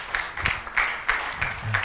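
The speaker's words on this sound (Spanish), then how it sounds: "Démosle un aplauso al Señor." Church congregation clapping in praise, a short burst of uneven, fairly loud applause with a faint voice underneath.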